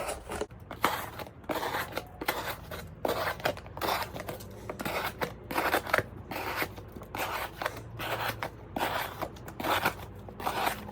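A Sencut Waxahachie knife blade slicing through paper during hard-use testing, a run of close, crisp rasping cuts repeating steadily at a fast rhythm, with no talk over them.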